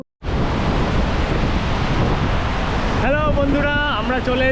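Langfossen waterfall in Norway, dropping from about 600 metres, makes a steady, broad roaring rush up close, much like strong wind. Near the end a voice comes in over the roar.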